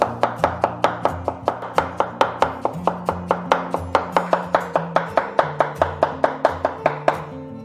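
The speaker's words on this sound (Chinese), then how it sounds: "然后改刀切丝。" A knife chops a peeled white radish into strips on a cutting board, sharp, quick, evenly spaced thuds close by, about four per second, continuing steadily with no talk.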